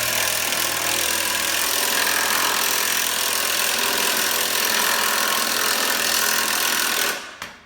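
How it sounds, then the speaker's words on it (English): An impact gun drives a motorcycle lift to raise a Kawasaki VN1700 Vulcan Vaquero, making a loud, steady, rattling hammer-like whir for about seven seconds before cutting off abruptly. No one speaks. "flip the direction of your impact gun, get it all situated. It'll bog down a little bit"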